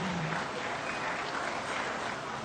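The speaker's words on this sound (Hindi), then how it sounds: "तालियां होनी चाहिए सुश्री तन्नु कुमारी को।" Applause from the audience at a state assembly foundation day award ceremony in Jharkhand, a continuous, fairly distant wash of clapping that holds at an even level throughout with no voices over it.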